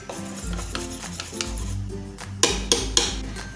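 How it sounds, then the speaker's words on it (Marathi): Dhokla batter is stirred and beaten in a bowl, giving repeated close scraping and sloshing strokes with a few sharp knocks of the utensil against the rim near the end; no one talks. "इथे तुम्ही पाहू शकता अशा प्रकारचं आपल्याला हे मिश्रण हलवून घ्यायचं आहे"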